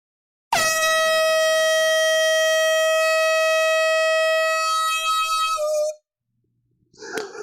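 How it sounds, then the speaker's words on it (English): Air horn at a live vinyl record sale blares in one long, loud, steady blast of about five seconds that wavers and cuts off, followed by brief faint noise. "Let me blow this air horn for Danny and for everybody else that participated tonight."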